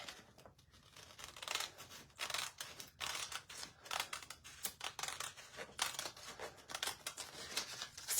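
Scissors cut along a scored line on a furniture transfer sheet, a series of quiet, crisp snips and paper crinkles in an irregular rhythm, heard close with no talking.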